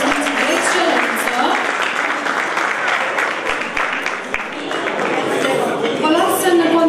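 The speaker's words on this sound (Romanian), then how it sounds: "Să-i aplaudăm încă o dată și pe câștigătorii de la distinții de excelență." Sustained audience applause fills a hall at an economic awards gala, steady and loud throughout, with a few sharp clinks and some crowd murmur beneath the clapping.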